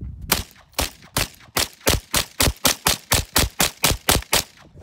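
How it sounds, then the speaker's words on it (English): Ruger PC Carbine 9mm fired in a rapid string of about fifteen sharp, loud reports at a fast, fairly even pace, with no talking. "I'm just gonna shoot these rapid fire."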